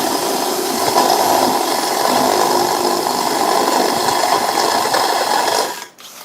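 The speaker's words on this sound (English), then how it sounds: "I have it memorized, the count for the steps for each size hole that I need to drill" A step drill bit grinds steadily through a workpiece, a continuous whirring, ratcheting mechanical drone held at even loudness for nearly six seconds before it cuts off abruptly, close and alone.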